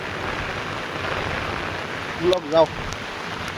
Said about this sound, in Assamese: বৰষুণ এৰাই নাই সন্ধিয়াৰ পৰা দিয়ে আছে একেৰাহে